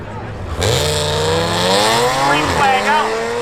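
Drag racing cars, a Nissan and an Audi, roar loudly at a speedway, engines revving up in rising pitch sweeps after a sudden launch, with an announcer talking over the noise.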